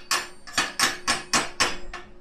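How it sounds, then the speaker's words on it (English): Seven sharp metallic knocks in a fairly steady rhythm, close and loud, a chipping hammer knocking slag off plasma-cut metal, with no talking. "Just take your chipping hammer,"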